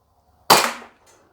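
A single sharp shot from a G&G Piranha TR gas blowback airsoft pistol, a loud snappy crack with a brief decaying tail, alone in a quiet setting.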